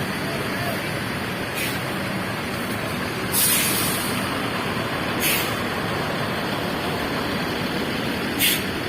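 An ANS executive bus prepares to depart from its depot amid a steady engine rumble, with several sharp hissing bursts of air brake release, one longer blast among shorter ones.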